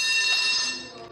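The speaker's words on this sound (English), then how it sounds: "You just ring this bell up here." A bell on a fire truck ride at Disneyland rings loud and close in a single bright burst, its metallic tone sustaining and slowly fading.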